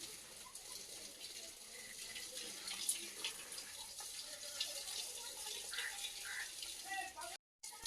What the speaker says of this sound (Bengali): পাইপটা ছোট করে দিয়েছে, একটা পাইপে জল দেওয়া হচ্ছে